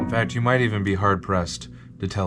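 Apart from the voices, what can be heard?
None of the usual background noises is heard.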